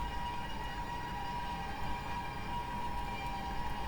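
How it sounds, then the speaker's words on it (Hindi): A video game train horn sounds as one long, sustained tone over the steady rumble of a moving locomotive, in the MSTS train simulator. "तो चलिए हम आगे की ओर बढ़ते हैं हॉर्न बजाते हुए"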